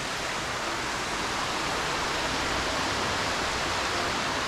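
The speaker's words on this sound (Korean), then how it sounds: "여기 물소리가 엄청 크네요" Loud, steady rush of flowing water, like a nearby stream or small waterfall at Namhansanseong, constant and unbroken with no voices.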